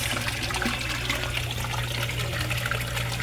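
Resun aerator pump running in a three-foot-deep koi pond, producing a constant bubbling, splashing wash of water over a low steady hum, loud and close throughout with no talking.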